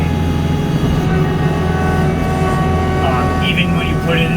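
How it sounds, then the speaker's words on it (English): Kubota LX3310 compact tractor with hydrostatic transmission, giving a steady high-pitched whine over a continuous engine drone, with a person talking throughout. "I think this one's already kind of notorious for it has that very signature hydrostat whine"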